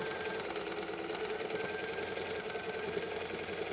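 A sewing machine back stitching the start of a tote bag pocket, steady rapid mechanical whirring and needle chatter running continuously at close range without any voice.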